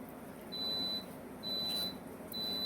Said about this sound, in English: so that's what the beeping is. It's my oven going off.